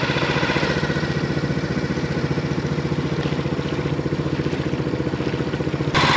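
A Hangkai 7HP four-stroke outboard motor drives a boat at about four knots, its close, loud, steady chugging drone holding an even rhythm throughout, with no voices.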